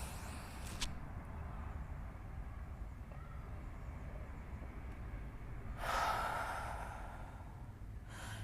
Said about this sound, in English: Just breathe in.